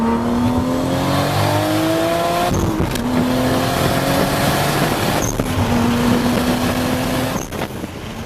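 A Toyota Supra MK4 engine revs hard, climbing through rising pitch in repeated pulls with brief drops between gear changes, loud and continuous with a raspy exhaust tone.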